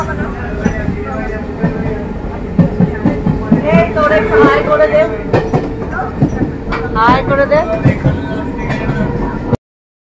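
A crowded local passenger train rumbles steadily along toward Namkhana station, its loud, continuous running noise mixed with the chatter of many passengers talking throughout.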